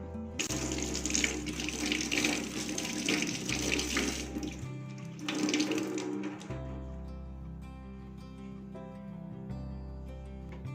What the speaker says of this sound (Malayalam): ഇത് നമുക്കൊന്ന് തണുത്ത വെള്ളത്തിലൊന്ന് തുണി നനയ്ക്കണം.